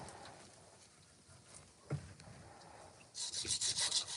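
A pot is sanded to remove burrs, with faint, scattered rubbing at first and then a quick burst of brisk, close scraping strokes at the end.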